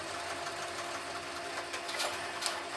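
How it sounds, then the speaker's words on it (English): An embroidery sewing machine stitches a tack-down stitch for the background fabric in a hoop, making a steady, rapid mechanical whirring and clatter heard close up on its own. "place the hoop back in your machine and stitch the tack down stitch for the background fabric"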